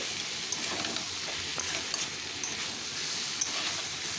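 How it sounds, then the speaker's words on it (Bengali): Spice masala sautéing with green peas and potatoes in a kadai for ghugni, giving a steady soft sizzle with faint scraping stirs throughout, alone and without talk. "এখন বেশ ভালো করে আরও কিছুক্ষণ কষিয়ে নিচ্ছি"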